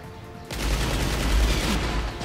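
Gunfire in the video game Escape from Butcher Bay: a dense, loud burst of rapid shots begins abruptly after a brief quiet lead-in and keeps roaring close for the rest of the moment, with no talking.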